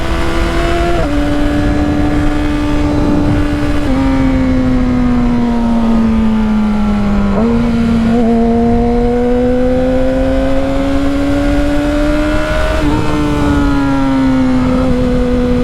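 A motorcycle engine revs hard while riding, with a slight stumble in the lower RPMs and a shift rod needing repair; loud and close, pitch climbing and dropping through repeated gear changes.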